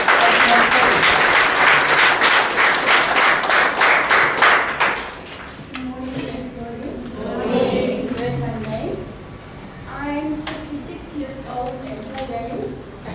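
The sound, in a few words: audience applause for a speaker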